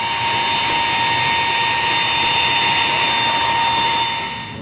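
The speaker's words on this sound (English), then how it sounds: "I'm gonna use this attachment here to suck up the dirt on the floor" A vacuum cleaner with a hose attachment sucks up swept dirt from a floor, giving a loud, steady roaring whine with a sharp high tone that holds throughout and eases off slightly at the end.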